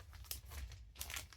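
Fiberglass insulation batt being shaken and flipped, giving a quiet, close crinkling and rustling with two brief sharper crackles, soft and dry with no talk.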